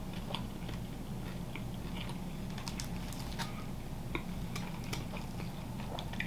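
Close crunching bites and chewing of a Little Caesars Detroit-style pizza with crispy edges, soft repeated crunches over a steady low background hum, no talking.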